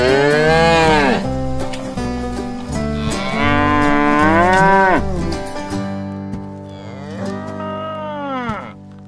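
A country cow in a farm animal diorama scene moos loudly, three long drawn-out moos with falling pitch, close and clear with short pauses between calls and no talking.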